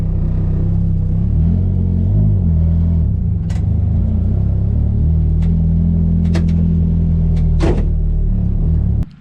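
Nissan S14 engine idling steadily with its muffler refitted, a deep, even, subdued rumble that stays close and constant throughout, with a few faint clicks and no speech.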